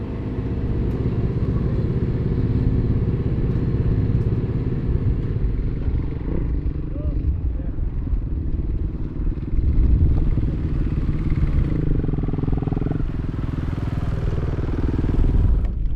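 A rally motorcycle engine roars loud and steady at a race start, throttle held open with rising surges near the end and other machines close by.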